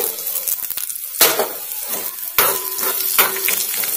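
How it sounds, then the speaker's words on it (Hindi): Green chillies dropped into hot oil with fennel and cumin seeds, a loud sizzle flaring at each addition, with metal spoon clinks against the pan as it is stirred. "इसके बाद डालेंगे हरी मिर्ची"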